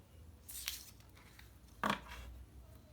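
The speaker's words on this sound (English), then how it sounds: "Now I'm just going to shuffle the cards." Tarot cards being shuffled by hand, with two short papery riffling bursts, one in the middle and a sharper one a little later, over a quiet room.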